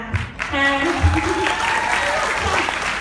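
Steady applause from a gathered audience fills the clip, with a voice speaking over it.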